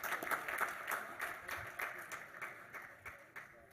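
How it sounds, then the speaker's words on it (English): At an athletics hall of fame ceremony, an audience gives brief, scattered applause that starts moderately and gradually fades, with individual claps still distinguishable. "And a round of applause."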